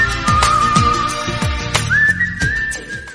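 Melodic whistling in the style of 1990s Bollywood film songs: a bright, sustained tune carried over rhythmic music with steady percussive beats, loud and close.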